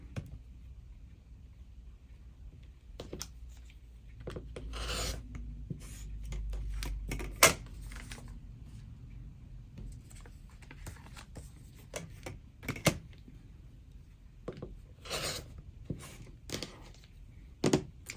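Fabric and paper being trimmed for foundation paper piecing, with sharp irregular snips and clicks of cutting and handling close by against a quiet background, no talking.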